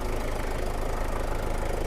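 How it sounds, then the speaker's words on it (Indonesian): A 1997 Daihatsu Taft Rocky diesel engine idles steadily in clean original condition after an oil and fuel filter change, giving a continuous close, knocking diesel rumble with no talk. "Suara mesinnya renyah, benar-benar istimewa."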